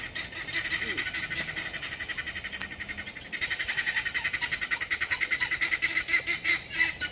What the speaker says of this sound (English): I hate those birds so much.